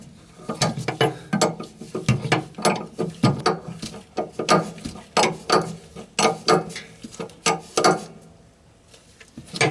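Ratchet tightening bolts on a school bus air suspension leveling valve, with a steady series of sharp clicking strokes in a repeating rhythm, loud and close with no talking.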